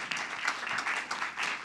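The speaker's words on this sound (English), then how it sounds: "So I want to give a big round of applause to both of those departments." Applause from the audience at a city council regular meeting, a steady wash of clapping that holds fairly evenly for under two seconds with no talk over it.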